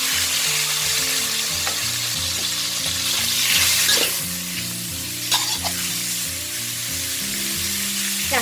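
Pork belly frying in oil in a pan gives a loud, constant sizzle with occasional stirring clacks, close up, while background music plays underneath.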